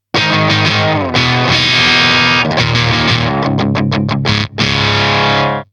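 Heavily distorted electric guitar chords through a cranked, overloading Marshall amp roar loudly, with a brief dropout and a rapid run of choppy stabs before ringing out again.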